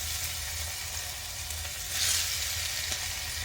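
Thin bitter gourd slices, cut chip-fine for masala karela, fry in a pan with a steady, even sizzle that swells briefly louder midway, close and continuous with no talk.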